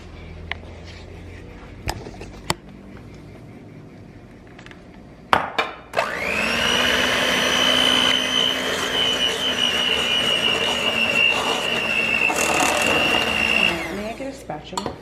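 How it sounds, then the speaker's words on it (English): An electric mixer whirs loudly for about eight seconds, blending gluten-free sweet potato bread batter in a bowl, after a few clinks and knocks of preparation. "No, I want to try it with the mixer because it's probably gonna be faster."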